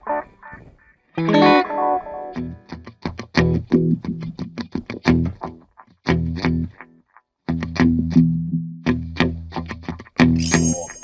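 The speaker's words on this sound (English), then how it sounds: "Sweep echo." Electric guitar through a Line 6 POD Go sweep echo delay: plucked notes and short phrases ring out with repeating, swirling echoes that tail off between phrases, loud and close, with no talking.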